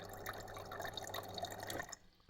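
Water pours from a refrigerator door dispenser into a glass, a steady close splashing trickle that runs for about two seconds and then stops abruptly.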